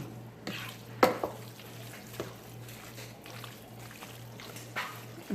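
Quiet scraping and stirring in a pan of chicken, shrimp and broccoli Alfredo sauce as pepper flakes are mixed in, with a soft sizzle underneath and a few small clinks of the utensil.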